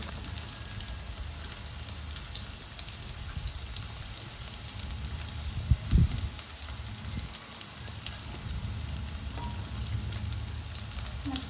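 Mustard seeds, cumin, onion and chillies crackling in hot oil for a tempering, a steady spattering sizzle with one brief louder knock midway.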